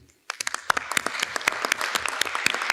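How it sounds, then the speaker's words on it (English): Applause at the close of a hybrid health and wellbeing conference, a modest group clapping after a brief silence, distinct individual claps heard fairly close and sustained to the end. "And again, applause for all the team."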